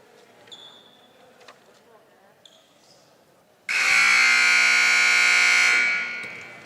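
A loud, sustained electronic basketball game buzzer blares for about two seconds and then cuts off, following a stretch of quieter arena crowd noise and faint squeaks at a women's college game.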